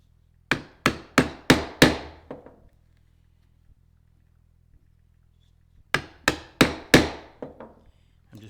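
A wooden mallet, such as one made of maple, strikes a chisel into wood in two sharp bursts of four or five quick blows each, close and crisp, with quiet between the bursts.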